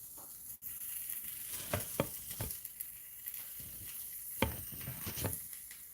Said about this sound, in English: So now I have my whisk. I'll break that up a little bit.